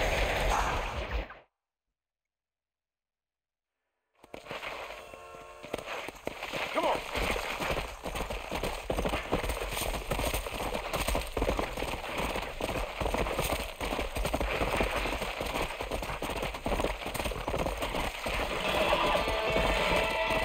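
Horse galloping in Red Dead Redemption, a rapid rhythmic run of hoofbeats with game ambience after a brief silent gap near the start, a voice talking over it in Hindi.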